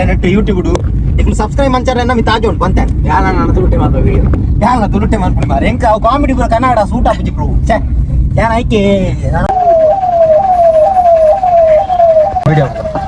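People talk over street noise in Nanthoor traffic, Karnataka, then a wailing ambulance siren cuts in and keeps cycling steadily, loud and close, for the last few seconds.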